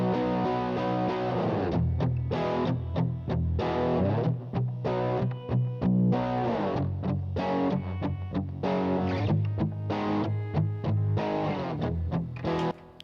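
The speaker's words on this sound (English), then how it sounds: "So this is double tracked, and those guitars sound like this." Double-tracked, heavily distorted Ibanez G550 electric guitars on the bridge pickup chug out a thick rock rhythm of choppy palm-muted stops and sustained chords, loud and dense with no voices.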